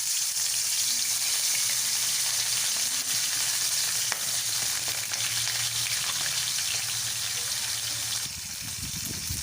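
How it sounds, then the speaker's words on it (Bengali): Salted, turmeric-rubbed tilapia fish fry in hot oil in a pan, giving a loud, continuous dense sizzle that runs steadily throughout. "তেলটা গরম হয়ে গেলে এবার আমি একে একে মাছগুলো ভেজে নেব।"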